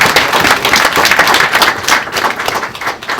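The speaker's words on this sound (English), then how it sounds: "Let's give everybody a round of applause." Audience applauding at a Heritage Awards ceremony, close, loud and sustained clapping from many hands in an even, dense patter with no talk over it.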